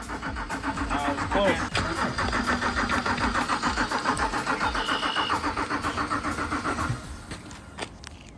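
A cheap BMW with a blown fuel pump fuse cranks without starting, its starter churning in a steady rhythmic whir for about six seconds before stopping, with voices around it.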